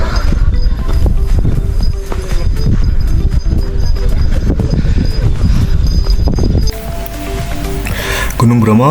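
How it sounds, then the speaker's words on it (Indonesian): Horses for hire on the trails of Mount Bromo walk past, hooves clip-clopping irregularly amid crowd chatter, wind and bustling outdoor noise. "Ini juga ada jasa kayak kuda ya teman-teman"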